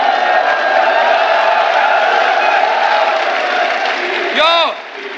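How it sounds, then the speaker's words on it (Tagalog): A loud, steady roar of crowd cheering fills the air at a FlipTop rap battle, dense and sustained throughout, with a single voice calling out sharply near the end before the noise dips slightly. "Tingnan niyo yung crowd doon. Lakas ng crowd."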